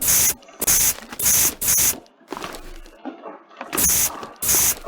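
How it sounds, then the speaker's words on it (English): Spray paint hissing from a can in the horror video game Subway Horror, several loud bright bursts of about half a second each in a steady rhythm, with a gap and softer rustling midway. "Just gonna spray paint every single lane because I can't see anything."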